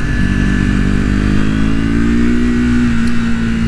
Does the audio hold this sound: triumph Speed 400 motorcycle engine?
yes